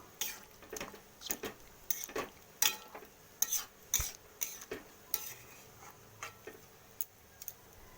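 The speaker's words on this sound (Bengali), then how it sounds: "ঢাকাটা খুললাম তো একটু নাড়িয়ে নেব" A utensil stirs chicken curry in a pot, producing faint, irregular scraping and tapping against the pot at a steady stirring rhythm, with a quiet kitchen hum behind.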